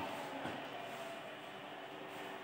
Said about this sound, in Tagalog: Gumagana na rin yung blower natin.